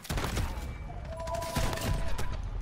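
Shotgun blasts in a shooter video game, a quick run of sharp cracking reports scattered across a couple of seconds, fairly faint in the mix over the steady game soundtrack.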